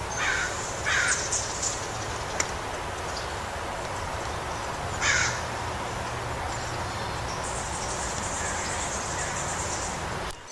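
A crow caws a few times outdoors at moderate distance, brief harsh calls standing out over a constant bed of chirping crickets and insects in quiet natural surroundings.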